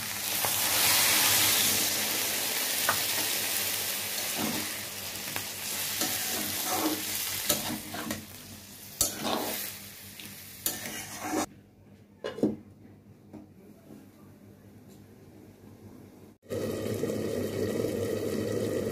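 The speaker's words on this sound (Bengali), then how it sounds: "এটার সাথে ভালো করে এখন নেড়ে চেড়ে নেব। জল দিয়ে দিচ্ছি।" Mixed vegetables and dried fish (shutki) are stirred in a hot pan, with loud sizzling and repeated scraping strokes; the frying drops away and water is poured in, bringing a rushing, bubbling sound near the end.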